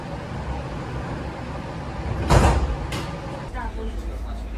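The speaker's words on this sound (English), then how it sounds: "The doors are closing." A train's sliding doors shut with a single loud hissing whoosh in the middle, followed by a brief thud, over steady rumbling train noise.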